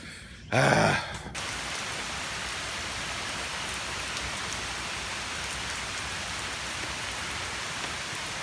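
Steady drizzling rain hisses continuously, close and even, after a brief louder rustling burst at the very start.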